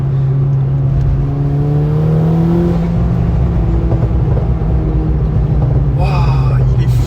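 A Volkswagen Golf 6 GTI Stage 2 with a reinforced clutch revs and accelerates, its engine droning loud and close and climbing in pitch. Excited voices talk over it, and a burst of higher noise comes near the end.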